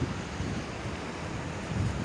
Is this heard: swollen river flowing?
yes